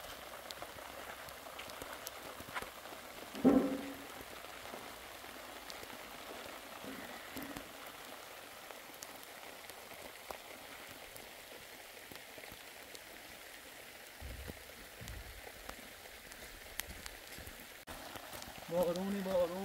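Night rain falling steadily on surfaces outdoors, a faint continuous patter with a few louder knocks and a voice speaking briefly now and then.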